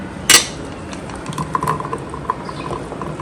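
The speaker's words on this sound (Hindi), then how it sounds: "अब हम इसे डिश में निकालेंगे।" Spoonfuls of Lahori channa chaat mixed with yogurt are scraped and tipped into a serving dish, a sharp utensil clink at the start followed by soft, irregular wet clatters and scrapes of spoon against dish.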